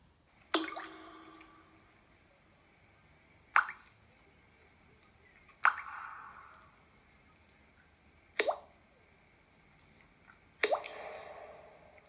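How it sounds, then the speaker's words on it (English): Five distinct water drips fall one at a time at uneven intervals of two to three seconds, each a short wet plop in an otherwise quiet room. "Drip, drip. Went the leaky kitchen tap."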